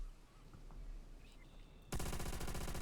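An MG42 machine gun from Call of Duty: World at War rips into a loud, sustained burst of very rapid fire that cuts in abruptly after a quiet stretch and runs to the end.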